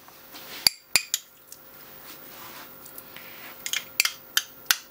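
A whisk works butter into orange sponge cake batter in a bowl, giving a quiet scraping bed broken by irregular sharp metallic clinks, some single and some in quick clusters.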